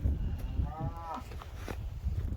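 A single drawn-out cow moo on a farm, fairly distant and soft, over low outdoor background noise.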